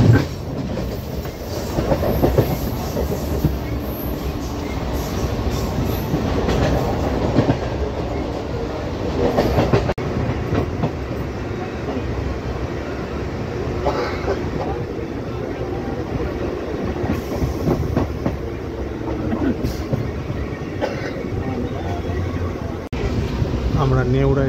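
A Patna local train on the East Central Railway in India running along the tracks with a continuous loud rumble and clickety-clack of wheels, with wind noise and people talking over it.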